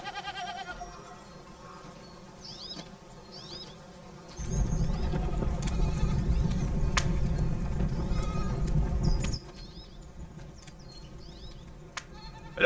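Goats bleat repeatedly in the open, thin wavering calls scattered through the stretch, with a louder rumbling patch of background noise in the middle.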